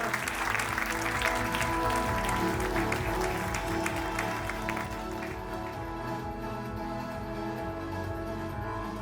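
Audience applause at a scientific conference session, clapping heard for about five seconds over steady background music and tapering off as the music carries on alone.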